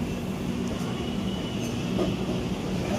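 Express train running steadily just after pulling out of Aligarh Junction, a continuous low rumble of wheels and carriage noise heard from inside the coach, with faint rail clatter and no talking.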